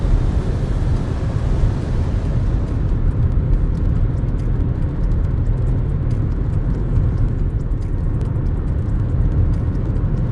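A 2022 Haval Jolion cruising along a highway, its steady, loud low road and engine rumble filling the cabin continuously without any talk.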